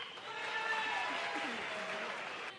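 A large crowd at a public event claps together in a dense, steady burst of applause that holds evenly for a couple of seconds before tailing off.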